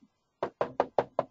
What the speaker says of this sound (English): My cat keeps knocking at this door.